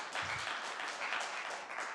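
Audience applause in a city planning commission meeting room, a steady wash of clapping hands lasting the full two seconds at moderate, fairly distant level without talk.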